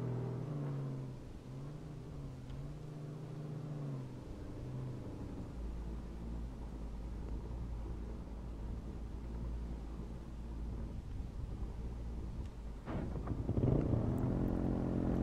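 Jeep and quad engines in the video game H1Z1, a steady low engine drone and rumble throughout, rising to a louder revving surge near the end.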